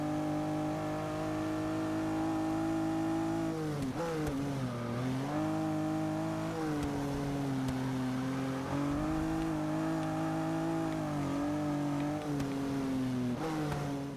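A Pontiac Aztek's engine revs continuously while drifting in Forza Motorsport 6, its pitch rising and dipping through throttle changes, loud and steady with no talk.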